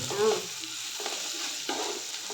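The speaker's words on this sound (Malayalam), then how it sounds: "ഉള്ളി വറ്റിച്ചത് ഏകദേശം വഴറ്റിട്ട് വഴറ്റി ആയി വന്നിട്ടില്ല" Onions sautéing in a pan for a Sunday biriyani, a steady soft sizzle with a faint stir or scrape near the start, no talking.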